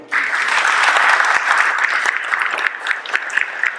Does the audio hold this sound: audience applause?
yes